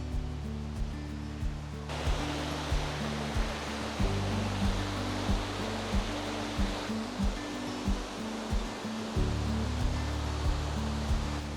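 Ryugaeshi waterfall in Karuizawa, Japan, roars as a continuous broadband rush of falling water, steady and close, with low rumbling thumps underneath and no voices.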